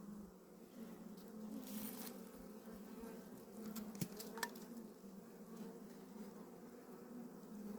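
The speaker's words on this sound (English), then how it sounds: "Oh, that's a lot of bees." Honey bees buzz around a building comb in a hive, a continuous close hum with a few light taps and clicks in the middle.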